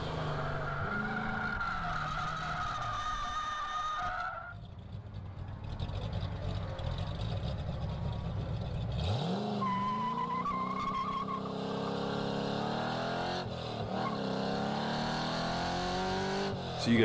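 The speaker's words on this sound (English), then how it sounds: "The Z06 late on the brakes with that incredible stability with the right size tires, and Adam just can't quite match it." A 1967 Mustang track car races hard on a circuit, its engine revving and shifting while tires squeal through corners, the loud motor rising and falling over a continuous roar.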